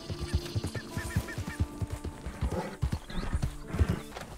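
Horse hooves clip-clop in a steady ridden rhythm in Red Dead Redemption 2, close and prominent, with faint bird honks and whinny-like calls mixed in the game's outdoor ambience.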